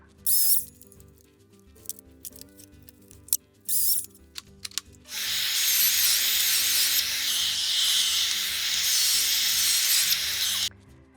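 A power tool cuts pieces of wood for a DIY chaise lounge chair: a few short clunks and handling noises, then a loud, steady, high whine runs for about six seconds before stopping, with no talking.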